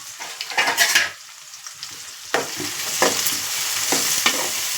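Sliced onions and green chillies frying in a pan for a fish curry, with bursts of loud sizzling and spatula stirring scrapes that come in waves and fade between, close and without talk.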